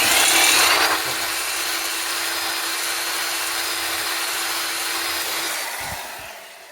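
A drill-driven hone works inside a JAWA 350 motorcycle cylinder with a steady, loud whirring grind that holds for several seconds, then winds down and stops.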